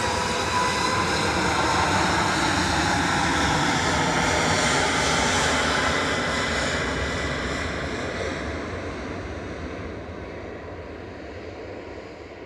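A TUI airliner accelerates down the runway at Manchester Airport on its takeoff roll, a loud, steady jet roar with layered whining tones that slowly recedes and softens toward the end.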